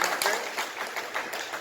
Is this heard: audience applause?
yes